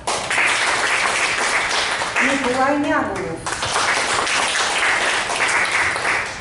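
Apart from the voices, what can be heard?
audience applause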